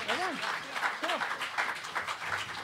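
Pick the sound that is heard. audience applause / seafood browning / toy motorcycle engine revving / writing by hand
audience applause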